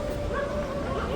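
A dog yips and whimpers on a Varanasi street, close by and continuous, partly under people talking.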